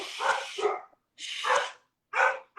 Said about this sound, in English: I apologize if the dogs start barking.